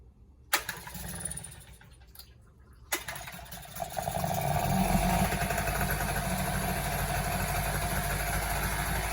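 Nissan 5 hp two-stroke outboard motor under repair, sharp knocks and pulls, then the engine starting and settling into a loud, steady buzzing idle close by.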